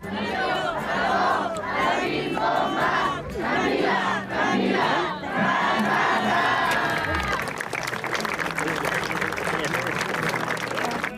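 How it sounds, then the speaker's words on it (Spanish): Mourners at a graveside funeral for a young girl in Taxco applaud and shout cheers, a loud crowd of clapping and raised voices rising in waves, then settling into steadier clapping. "Ya en la tumba vinieron los aplausos y las porras."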